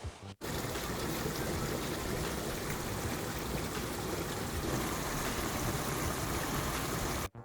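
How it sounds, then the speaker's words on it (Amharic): Water poured into a pot of Ethiopian minchetabish stew as it cooks, a continuous loud rushing gush that starts and stops abruptly. "ውሃ ትንሽ እናረጋለን"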